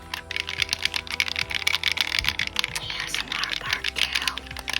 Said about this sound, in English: These buttons, again, feel really clicky.